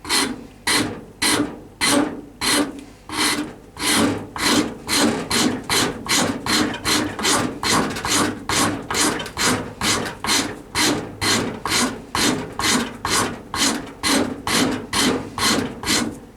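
A shaping tool is worked over an ebony overlay on a hickory bow, making loud, close, rasping strokes in a steady rhythm of roughly two per second, with no talking.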